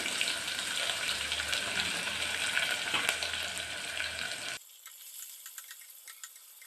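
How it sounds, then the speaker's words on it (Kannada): Chopped onion frying in hot oil with half a spoon of fennel seeds, a steady loud sizzle for several seconds that then drops abruptly to a much quieter crackle. "ಈಗ ಈರುಳ್ಳಿ ಹಾಕೋಣ ಒಂದು ಈರುಳ್ಳಿ ತಗೊಂಡಿದ್ದೀನಿ"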